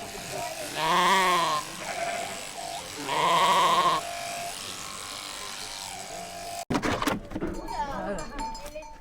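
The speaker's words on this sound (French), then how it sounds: "Si tu l'as entendu bêler, c'est qu'elle avait sa mère ou sa copine à côté qui l'appelait et elle voulait rejoindre." Two loud wavering bleats from a ewe being sheared, close by, with an electric shearing clipper buzzing throughout, then clattering handling noise at the end.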